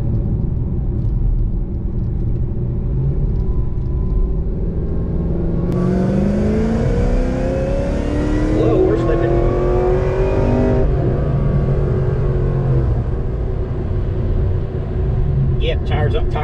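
A car accelerates hard from a low rumble, its engine note climbing through a long pull, with a gear shift midway and steady road roar underneath; someone talks at points.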